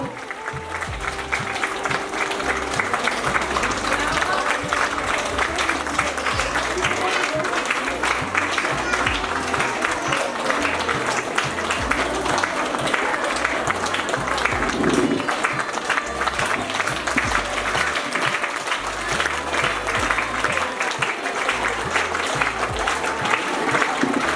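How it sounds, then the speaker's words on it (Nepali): Long, steady applause from an audience at a school event for drawing and handwriting training, with dense, continuous clapping from many people holding at an even level throughout. "उपस्थित महानुभावहरूले ताली बजाएर साथ दिनको लागि म हार्दिक अनुरोध गर्न चाहन्छु।"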